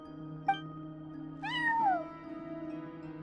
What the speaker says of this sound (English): No one except for a cat.